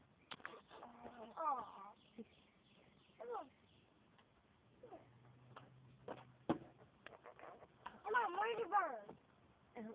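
Birds in a backyard give short chirps and calls at a few scattered moments, fairly faint and distant, while children talk over them.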